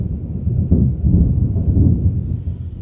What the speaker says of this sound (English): Got a pretty nice storm going in the background.